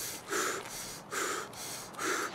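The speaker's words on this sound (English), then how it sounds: "I'm over here panting" A gaming player pants heavily, three loud breathy gasps spaced about a second apart, close and alone with no talk.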